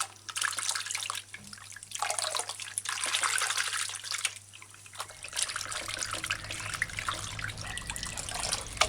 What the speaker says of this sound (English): give it a final rinse under fresh running water